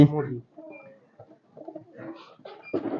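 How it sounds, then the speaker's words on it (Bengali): Pigeons coo in a loft with soft, low throaty calls, while a voice speaks clearly over and between them. "আমার এই কবুতার এই পাখি"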